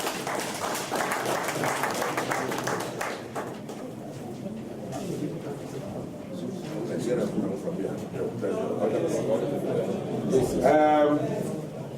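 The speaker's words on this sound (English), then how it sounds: "Give me a hand of applause, please." At an Igbo community inauguration ceremony in Qatar, the audience claps under ongoing talk, the clapping strongest at the start and then fading as speech continues, with a pigeon cooing briefly near the end.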